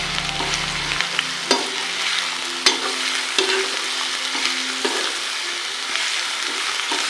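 Ginger-garlic paste frying and being stirred for a mutton curry, a steady sizzle with periodic scraping clicks of a spoon against the pan, close and continuous with no talking.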